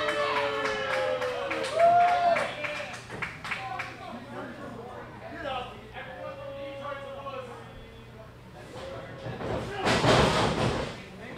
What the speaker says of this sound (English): But again, Chimera takes him down with a clothesline.